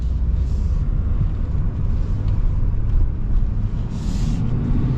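A lifted Ford F-350 with a Power Stroke diesel engine rumbles steadily while driving, with a deep, continuous drone and road noise at a fairly loud, even level.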